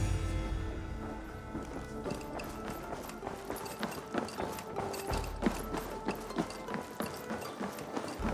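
Rapid clip-clopping horse hooves in the video game Assassin's Creed Valhalla pound in a steady galloping rhythm, fairly close, with a low rumble underneath.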